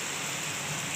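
Heavy rain falling outside, a dense, unbroken wash of noise with no distinct drops or pauses over a brief moment.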